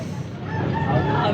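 A rooster, a stag being offered for sale, crows in a single drawn-out call, moderately near, over low background murmur.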